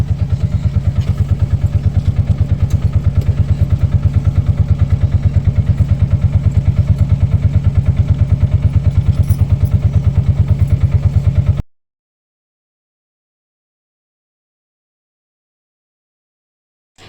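A motorcycle engine runs steadily and loudly with a fast, even chugging pulse for about twelve seconds, then cuts out abruptly into silence.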